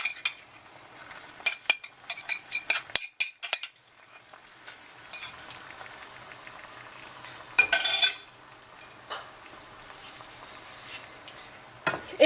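Marinated pork cooks in a pan for caramelized pork, with a soft steady sizzle under sharp clinks of a utensil stirring against the pan, a busy cluster early on and another near the end.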